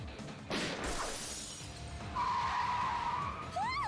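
Taxi racing cars in the video game Like a Yakuza skid and screech with loud tire squeals, a smash, and a rising whine at the end, all close and continuous without speech.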